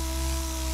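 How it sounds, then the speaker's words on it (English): Power sanding across the top of a car bumper being prepared for paint, a steady loud whirring drone with a constant hum, heard alone without voices in a short burst. "we're sanding the top"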